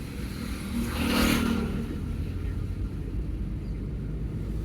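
A car engine hums steadily from inside during a beginner driving lesson, swelling briefly as it picks up speed and then settling back to a low, even drone.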